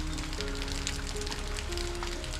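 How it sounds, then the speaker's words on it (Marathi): Steady rain falls on a late-afternoon Konkan village under dark clouds, a dense continuous patter and hiss of drops on surfaces, with faint low tonal hums running underneath throughout. "अजूनही पाऊस पडतोय"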